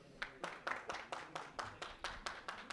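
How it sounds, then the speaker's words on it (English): Clapping comes from the audience at an artificial intelligence and cyber security workshop, welcoming guests to the dais. About a dozen evenly spaced, fairly quiet claps follow a steady rhythm with no talk over them. "Can we please have a huge round of applause,"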